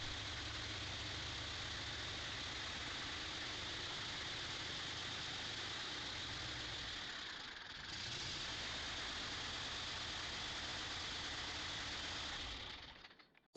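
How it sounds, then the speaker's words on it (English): A vintage Deutz V12 diesel engine with modified air filters and exhausts runs in Australia, giving a steady, dense, continuous roar that holds evenly for about thirteen seconds before cutting off abruptly. "This running example, equipped with modified air filters and exhausts, is among the oldest operational Deutz V12 engines in Australia."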